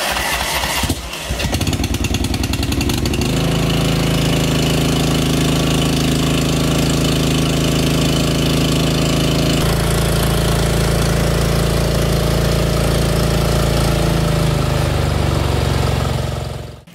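Troy-Bilt TB30R riding mower with a battery charging fault, its engine cranked by the starter then catching and running at a loud, steady, close rumbling idle for several seconds before cutting off at the end.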